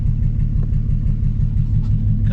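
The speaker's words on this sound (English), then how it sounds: "Now it revs." A turbocharged car engine rumbles close and loud with a steady, pulsing low throb and no rise in pitch, sounding more like an idle than a rev, with no talk.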